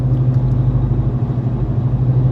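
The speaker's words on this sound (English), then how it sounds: "It's absolutely amazing how good the exhaust sounds running the factory mufflers." A Whipple supercharged, catless Dodge Challenger 392 with a 6-speed manual and factory mufflers idles with a loud, steady, deep exhaust rumble, heard close and alone.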